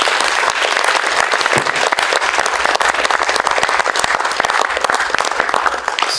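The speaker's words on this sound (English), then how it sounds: "Can I get another round of applause?" Lecture audience giving a round of applause after the McMichael Lecture and award announcement, steady dense clapping from many hands that continues evenly throughout without talk.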